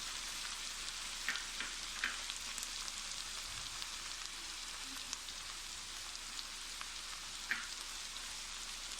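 Tomatoes frying with salt and turmeric, a steady close sizzle and crackle of hot oil with faint occasional pops, continuous and without talk.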